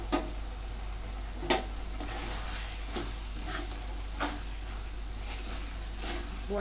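A spoon stirs coriander into a simmering mixed pea and moth bean curry, giving a quiet, steady sizzle broken by several sharp scraping clicks against the pan at irregular intervals.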